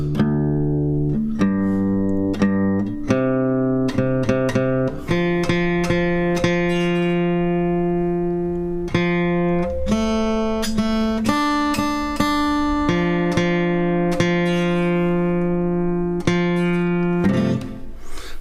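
A sustained, bright stringed instrument plays sliding pitches and repeated notes as it is adjusted, loud and close, without any talking.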